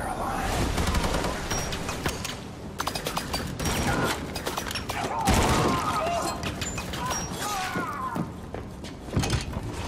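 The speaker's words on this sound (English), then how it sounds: "Escape, Max! Escape! Shoot! Shoot! You shoot good, Max" Rapid gunfire rattles through a cutscene of the video game Wolfenstein II: The New Colossus, dense bursts of shots and mechanical clatter mixed with loud voices and action noise throughout.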